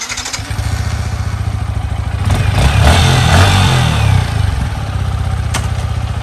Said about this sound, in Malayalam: സോ ഇതിൻ്റെ എക്സോസ്റ്റ് നോട്ട് കാണിച്ചു തരാം.